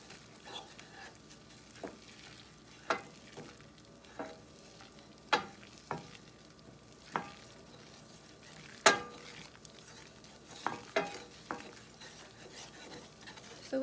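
Butter browning in a pan for brown butter scrambled eggs, stirred steadily: a low, constant sizzle with regular scrapes and taps of the utensil against the pan, close and moderately quiet.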